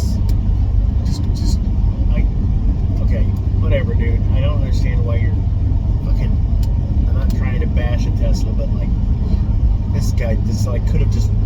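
Steady road traffic rumbles throughout, with cars passing close by in a continuous, loud wash of engine and tyre noise and no clear pauses.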